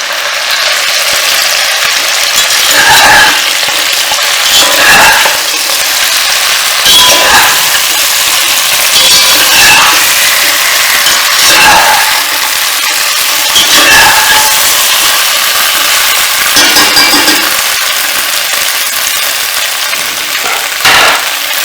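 Undhiyu vegetables are stirred in a pan over a low flame. Loud, repeated scraping strokes sound at a roughly regular rhythm, each one a short gritty burst over a constant hiss.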